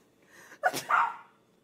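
A single sharp sneeze, preceded by a quick inhaled breath, close and loud against an otherwise quiet background.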